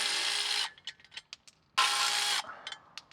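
Under a Toyota 4Runner, a power tool whirs in two loud bursts while removing the last skid plate bolt, with clicks and clanks of metal handling between them.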